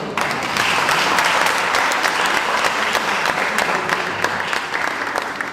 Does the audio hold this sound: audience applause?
yes